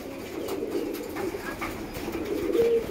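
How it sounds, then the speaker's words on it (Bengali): Pigeons in a crowded home loft of about two hundred birds, many sitting on eggs and chicks, give a low, continuous murmur of soft cooing that stays fairly steady and close throughout, with no talking. "এই যে অনেক পায়রা আছে, ডিম বাচ্চা নিয়ে সব বসে আছে"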